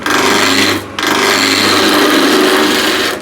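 A 3/4 inch spindle gouge roughing off the square corners of a wooden spindle on a lathe, giving a loud, continuous rough cutting roar with a brief dip partway through, close up.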